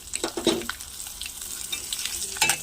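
Chopped garlic sizzles and fries in a hot pan for a Telugu gongura and chana dal curry, with a spoon stirring and scraping through the steady crackle; a couple of louder clatters stand out.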